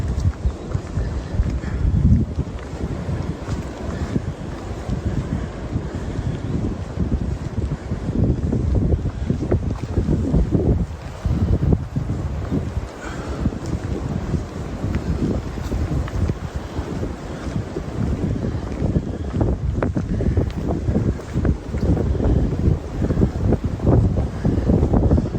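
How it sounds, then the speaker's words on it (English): Strong wind on an Appalachian Trail ridge line in Virginia roars and buffets the microphone continuously, with gusty low rumbling surges throughout and no talking. "Wow, I just got hit with the wind."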